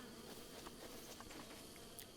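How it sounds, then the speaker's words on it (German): Bees swarming in Zelda: Breath of the Wild, a steady droning buzz that fills the whole stretch, faint and continuous with occasional small ticks, no talk. "Bienen, lass mal bitte in Ruhe."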